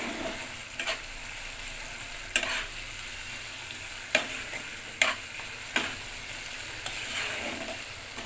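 Masala for a sour-yogurt chicken kosha fries steadily in oil with a constant close sizzle, broken by a few sharp scrapes and clacks as a spoon stirs it in the pan.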